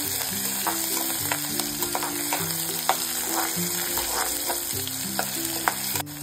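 Green chillies and curry leaves sizzle loudly in a pan for leftover-idli upma while a spatula stirs them, its frequent clicks and scrapes sounding over a constant, close frying hiss.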